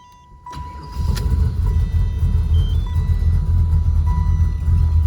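A low, steady engine rumble of a poorly running car under tuning idles close by on low octane spark tables, with a faint high electronic tone and occasional small beeps over it.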